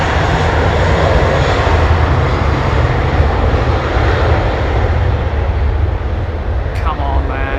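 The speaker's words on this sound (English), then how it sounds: "Take off thrust set." Airliner at London Heathrow Airport with takeoff thrust set, a loud, steady jet engine roar that fills the whole clip.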